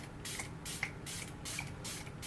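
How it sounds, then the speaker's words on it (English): A Profusion Cosmetics natural finish setting spray with a fine mister gives about five quick, soft spritzes in a row. Each one is a short hiss close to the listener, set against a quiet background. "this is their natural finish setting spray"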